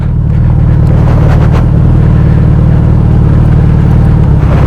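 A 2020 Suzuki Hayabusa GSX1300R being ridden, its engine a loud, steady low drone with wind rush over it, recorded close on the move, no voices.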